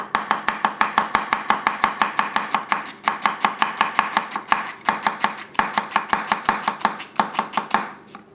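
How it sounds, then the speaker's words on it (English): A Tanaka Ironwood 160mm nakiri knife radially chopping on a solid board, with rapid, evenly spaced crisp knocks for about eight seconds, close and loud, with no talk. "Radial chop."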